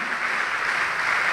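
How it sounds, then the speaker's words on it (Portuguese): Church congregation applauding during a sermon, a brief, steady burst of many hands clapping at moderate level with no voices on top. "Vamos aplaudir o Senhor."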